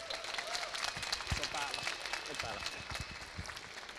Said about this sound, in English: So please give a round of applause for Erno Launo.